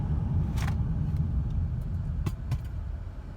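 A 2006 Chevy Impala braking hard from around 30 to 35 mph on new pads: steady low road and engine rumble close by, with a few brief squeaky bursts above it and no talking.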